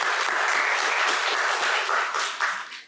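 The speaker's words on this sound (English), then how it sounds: "Now let's give everyone a round of applause" A full, continuous round of applause from an audience at a Pride learning series talk on queer mental health, loud and even before tapering off at the end.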